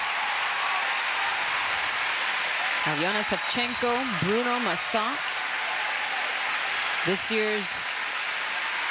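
An arena crowd at the 2016 World Figure Skating Championships applauds steadily after a pairs short program, a broad wash of clapping that runs throughout while a commentator talks over it in short bursts.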